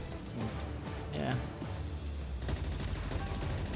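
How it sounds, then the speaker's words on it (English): Bursts of rapid gunfire from the Palworld video game rattle in the background, fairly quiet and partly masked, while people talk over them. "Gunfire."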